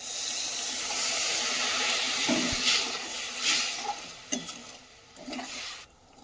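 An orange chutney of sugar and water bubbles and hisses in a pan, giving a close, steady simmering wash broken by a few soft stirring scrapes and brief bubbling pops.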